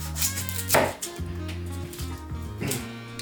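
A knife chops through the top of an onion on a cutting board, giving a few firm, close thuds with faint background music underneath.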